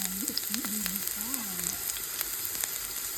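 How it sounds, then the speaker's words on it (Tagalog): Onions fry in a hot pan with a steady, hissing sizzle, constant and close, with a brief low hum early on. "Prito na natin ating onion."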